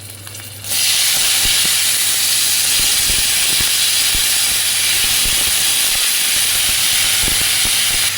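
Mustard seeds crackling in hot oil: loud, steady sizzling hiss with scattered sharp pops and crackles that start abruptly and continue throughout.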